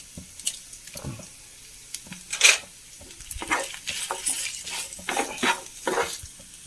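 Dried Kashmiri chillies cut into a hot pan for a roasted-coconut onion sambar sizzle in short bursts, mixed with the scrape and clatter of stirring against the pan. There is no talking.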